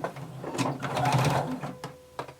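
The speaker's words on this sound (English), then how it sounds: "starting at the bottom, we're going to sew using 5/8 inch seam allowance" Sewing machine stitching a 5/8 inch seam up a pinned garment, a brief close whir that swells and fades over about two seconds with a few sharp clicks at the end.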